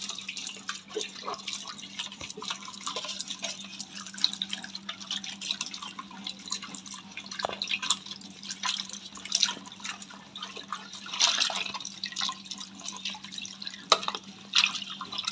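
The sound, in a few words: washing bird cage bowls with water in a basin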